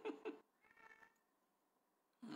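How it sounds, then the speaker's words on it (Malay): A stray cat meows close by indoors: a couple of quick meows, a softer drawn-out call, then another meow after a short quiet pause. "Kucing jalanan tu."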